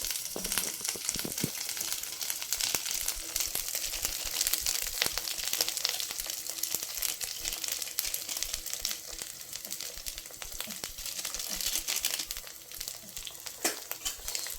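Paneer masala sautés in hot oil, a continuous close crackling sizzle with scattered pops and occasional soft stirring scrapes, steady and fairly quiet throughout.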